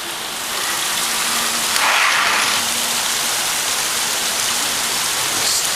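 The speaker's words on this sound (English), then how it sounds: "Time to get the camera out and film more rain." Rain pours steadily, a dense, even hiss of drops that holds at a constant loudness from start to finish with no voices.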